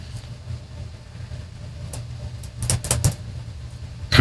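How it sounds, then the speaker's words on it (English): Train sample from a beat-making session: steady low rumble of rolling rail cars with a burst of sharper metallic clatter and squeal near the end, moderately loud, no talk. "Train sounds."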